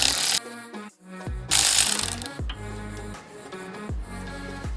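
A bolt being removed from the wheel speed sensor on a BMW E92 335xi, with loud mechanical tool noise in repeated bursts, clanking and ratcheting close by, with brief pauses between runs.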